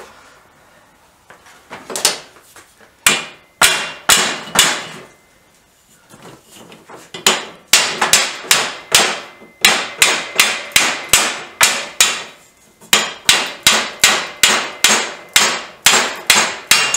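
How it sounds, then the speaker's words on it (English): Repeated sharp hammer blows ring against corroded metal on a Greeves Anglian motorcycle in uneven bursts, some fast strings of strikes, others spaced apart, loud and close. "And of course a bigger hammer."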